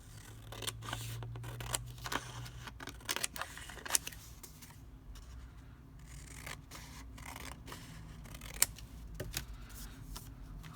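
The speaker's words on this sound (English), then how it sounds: "I'm just going to fold that corner up and I'm going to cut it out" Scissors snipping out a folded paper corner, a series of small, quiet, irregular cutting clicks close up in a hushed room with no talking.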